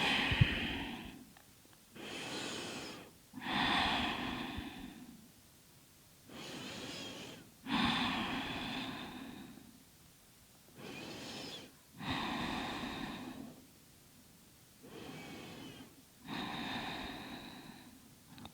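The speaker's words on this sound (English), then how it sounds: "Deep breaths." Slow, deep yoga breaths during a hip-opening stretch, about eight long inhales and exhales in an even rhythm, each a close, airy rush with rests between, and no talking.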